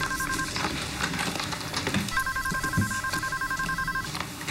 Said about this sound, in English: That would be the phone.